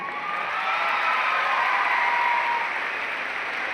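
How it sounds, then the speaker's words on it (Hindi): Large audience applauding at a public event, a broad, even roar of clapping from many hands, steady and loud from start to finish with faint crowd cheering beneath. "मेरे लिए ताली कम बजाइए।"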